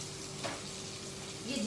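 Crushed garlic and ginger dropped into a hot pan for Sindhi cooking, giving a steady close sizzle and frying hiss with a faint stir near the end, no talking over it.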